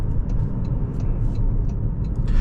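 A 2023 Toyota Corolla Cross XLE engine accelerating hard, a steady throaty low rumble heard from inside the cabin, continuous and fairly loud with no talk.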